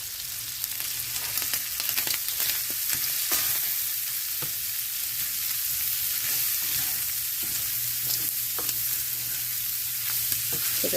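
Diced red pepper and celery frying in a cast iron skillet, giving a steady, loud, close sizzle with occasional stirring scrapes and no talking.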